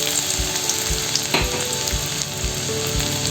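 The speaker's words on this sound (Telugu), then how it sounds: "ఆయిల్ వేయడం తర్వాత ఒక 2 టేబుల్ స్పూన్స్ ఎల్లిపాయ వేసుకోవాలి." Garlic frying in oil for veg manchow soup, a steady close sizzle with a few soft stirring knocks from a spoon in the pan; no talking.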